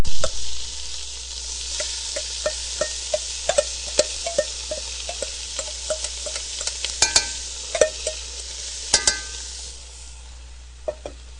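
Onion and garlic sizzle in a hot pan around a browning roast, a steady bright hiss running throughout with repeated sharp clicks and scrapes of stirring.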